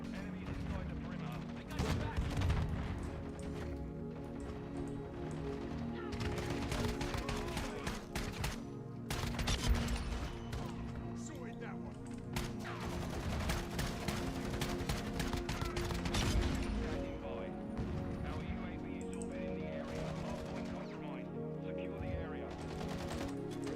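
Rapid bursts of automatic gunfire from a gun fed by a 25-round drum magazine in Modern Warfare 2 keep rattling through the game's dense sound mix, loud and almost continuous, with a voice talking over it.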